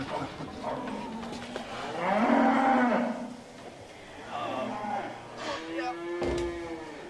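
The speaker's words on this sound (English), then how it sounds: "them cows are making a racket, aren't they?" Dairy cows low repeatedly at milking time on a farm, several drawn-out moos overlapping at moderate distance, with a voice talking over them.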